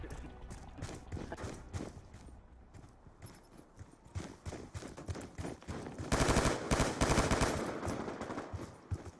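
Gunfire in Call of Duty Black Ops 2 Gun Game mode, with scattered sharp shots building into a dense, loud, rapid-fire burst near the end, mostly free of talk.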